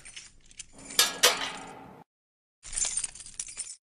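Metal keys jingle and scrape against a lock in a couple of bursts, separated by a short silence, close and clear.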